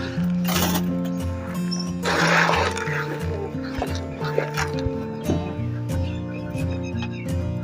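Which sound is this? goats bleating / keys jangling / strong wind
goats bleating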